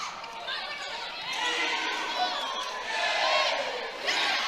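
A loud crowd at an indoor volleyball match roars and cheers in swelling waves with shouts and chatter, rising and falling over a few seconds.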